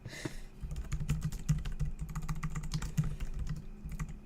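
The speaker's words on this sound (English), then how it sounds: "Can you guys hear me typing?" Fingers type on a computer keyboard in a rapid, irregular stream of close, crisp key clicks with a few heavier strokes, continuing alone without talk.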